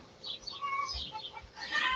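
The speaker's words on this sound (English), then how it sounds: "Yep, the chickens are carrying on, Heather." Loose farmyard chickens cluck and carry on in quick, overlapping bursts, fairly soft and a little distant, with no talking.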